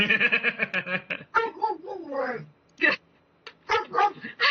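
A person imitates a dog with a string of short yappy barks and growly voiced noises, some broken by laughter, close and clear.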